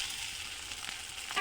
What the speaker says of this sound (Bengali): আমি এখন আদা কুচি আর লঙ্কা কুচিটা দিয়ে দিলাম।